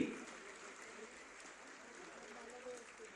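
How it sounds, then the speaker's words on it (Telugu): An audience applauds at a press event on house plots for journalists, with Chief Minister Revanth Reddy present. Steady, fairly faint clapping continues throughout while a voice talks over it. "please give a big hand"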